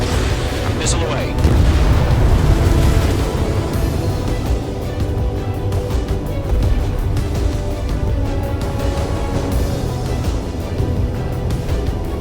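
A missile detonates in the Ace Combat 7 jet combat game during an F-16 ground attack, a loud booming blast over continuous engine roar and game music, with radio chatter from voices.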